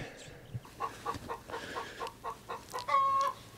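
Chickens cluck in a run being set up with an electric poultry netting kit, a rapid series of short close clucks ending in a longer drawn-out call.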